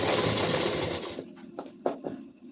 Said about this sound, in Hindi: अब इधर साइड में सिलाई चला देंगे।